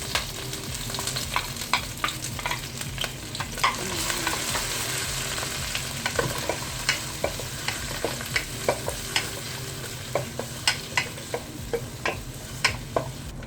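Ginger garlic paste frying with curry leaves and green chillies in a pan, a steady close sizzle running throughout with frequent scraping stir clicks and taps of a spoon, no voices.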